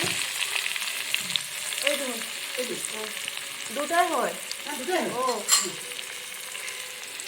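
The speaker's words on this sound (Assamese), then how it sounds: "বাটাৰ বেছি ভাজিব নালাগে, পিঁয়াজ দি দিলোঁ।" Onions frying in oil and butter in a pan, a constant close sizzle with clinks of stirring, while voices chat in the background.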